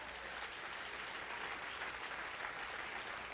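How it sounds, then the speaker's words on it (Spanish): A church congregation applauds in praise, steady dense clapping that stays faint and even throughout, with no break. "Dele mejor el aplauso al Señor."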